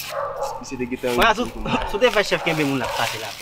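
A dog barks and yips in short bursts close by, mixed in with ongoing French and Creole conversation that runs over most of the barks.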